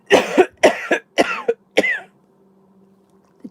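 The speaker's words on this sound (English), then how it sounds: "The tea makes me cough." Four harsh coughs come in quick succession, close and loud, each a short burst with a catch of breath, then the room goes quiet apart from a faint low hum.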